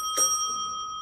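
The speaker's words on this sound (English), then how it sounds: "He was several times interrupted by the little bell" A signalman's small signal bell gives a single bright ding with a lingering ring that fades slowly, heard alone and fairly clear in a quiet room.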